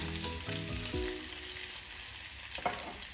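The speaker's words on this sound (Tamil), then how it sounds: "இந்த சுறாவரை வறுக்கிறதுக்கு சில நேரம் நம்மளுக்கு எடுக்காது. குயிக்காக வறுத்துக்கலாம்." Shredded shark meat fries in a pan for sura varai, a soft steady sizzle at low volume with a few brief tonal clatters of utensils early on and a single scrape toward the end, with no talking.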